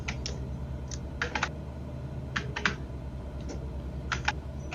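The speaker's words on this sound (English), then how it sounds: "very angrily typing something" Angry, rapid typing on a computer keyboard during a flight-training session, bursts of sharp clicks in irregular clusters over a steady low hum.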